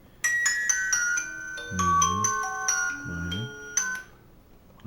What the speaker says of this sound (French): Ça c'est la sonnerie.